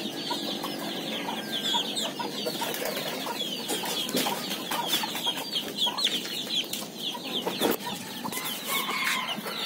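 Native Labuyo Talisayin chickens and their chicks cluck and peep busily at feeding time on a rural farm, a steady chorus of close and scattered calls with no talking.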